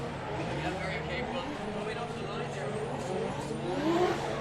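A 1.5 JZ, 600-horsepower drift car at an IDC 2018 pro qualifying session: a loud, continuous engine roar with wavering revs and a tyre-squeal whine, running under a commentator's voice.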